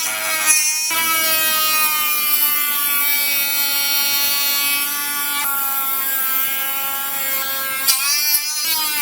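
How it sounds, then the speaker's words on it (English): A Dremel rotary tool on high speed whines loudly as it cuts into foam, a sharp steady high-pitched tone that dips and rises again as the bit bites in. "Put the Dremel on high."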